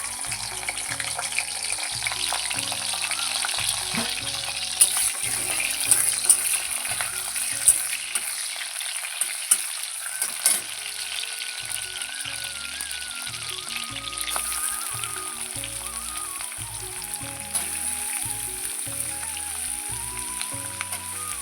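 Okra fries in hot oil with chili and onion, a steady close sizzle and crackle with occasional stirring clinks, no voices.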